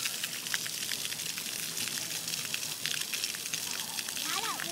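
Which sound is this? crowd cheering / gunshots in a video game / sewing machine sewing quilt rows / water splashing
water splashing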